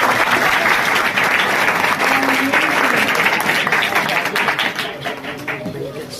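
A church congregation breaks into loud, sustained applause, a dense wash of many hands clapping at once that holds steady for several seconds before easing slightly at the end.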